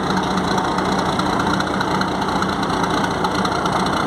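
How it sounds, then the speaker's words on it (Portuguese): A motor ship's engine runs steadily as the boat leaves the port of Manicoré. The loud, constant drone holds the whole time and has a low throbbing rumble, with no voices over it. "o navio motor Lindo Amanhecer já está saindo do porto de Manicoré"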